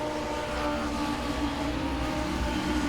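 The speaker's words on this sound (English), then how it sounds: "It's hard to believe they got motorcycle engines in these things, but these things get around this racetrack in a hurry" Legends race cars powered by motorcycle engines lap a speedway oval, their high engines droning in a steady blended roar that swells slightly as the pack passes, with no talking.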